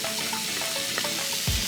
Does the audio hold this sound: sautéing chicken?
yes